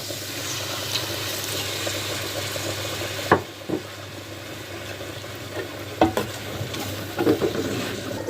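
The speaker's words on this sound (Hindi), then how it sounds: "अभी यहाँ पे आके हम इसमें थोड़ा सा पानी शामिल करेंगे, तकरीबन 1 कप।" Beef khiri masala fries in ghee in a pan as about a cup of water is added, giving a continuous sizzle broken by a few sharp spoon clanks and stirring scrapes.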